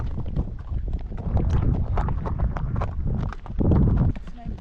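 Horse hooves clip-clop steadily during a horseback ride at Mahabaleshwar, close and fairly loud, with wind buffeting the microphone and people talking over the hoofbeats.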